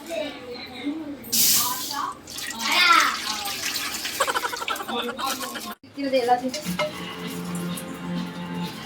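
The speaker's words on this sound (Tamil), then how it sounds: "தண்ணி ஊத்துறது தண்ணியெல்லாம் ஊற்றுறது" Water is poured in a home kitchen while Maggi noodles are being made, a splashing rush mixed with clatter of pots and utensils, with people talking throughout.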